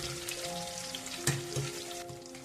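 Mixed vegetables (eggplant, pumpkin, pointed gourd, okra and potato) fry in oil with a steady close sizzle, a faint hum underneath and a couple of soft clinks from the utensil.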